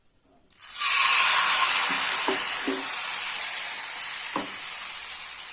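Food hits hot oil in a wok with a sudden loud sizzle that stays as a steady bright hiss, with a few soft knocks of stirring beneath it.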